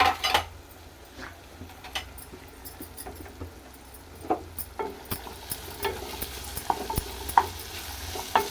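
Pieces of ivy gourd frying in a pan for a sweet curry, with steady low sizzling and repeated scraping, clinking stirs of a utensil against the pan, getting busier toward the end.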